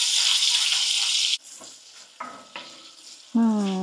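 Smoked bacon hits a hot pot with a loud, bright sizzle that cuts off sharply, followed by softer clatters and a scrape or two of stirring.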